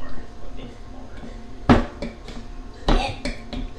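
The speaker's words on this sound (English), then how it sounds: "Oh my god, I just broke the spoon." Spoon snapping while scraping the flesh out of a coconut in a home kitchen, heard as a sharp crack followed by a few clinks and knocks, close by, with a voice talking around it.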